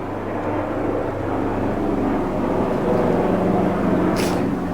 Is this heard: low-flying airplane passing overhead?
yes